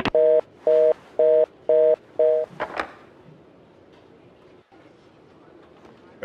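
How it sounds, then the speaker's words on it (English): An office desk phone rings in the Max Payne 2 video game, heard as five evenly spaced, loud electronic tone bursts, followed by a quiet room tone. "Winterson's phone was ringing."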